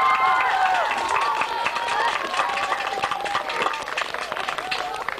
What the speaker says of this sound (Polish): Brawa publiczności,